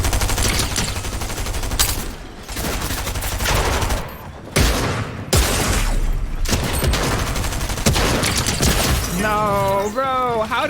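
Gunfire from a Fortnite match rattles in dense, continuous bursts with loud shots and crashing impacts, broken by brief pauses and a rising tonal effect near the end.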